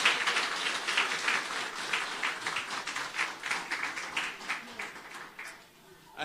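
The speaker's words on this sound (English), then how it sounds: "can we also have a biggest round of applause for the First Lady" An audience at a Liberland ceremony in Novi Sad applauds the First Lady, a room of clapping hands with audible individual claps, strong at first, then gradually thinning and dying away near the end.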